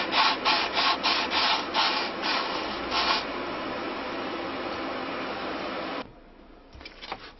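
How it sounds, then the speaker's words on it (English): Cloth-backed abrasive strip wrapped around cork rubbing wood on a handmade stick dulcimer, first in quick rhythmic back-and-forth strokes, then a steadier continuous scrubbing before stopping, with a few faint handling sounds after. "I can use a strip of, this is cloth backed abrasive"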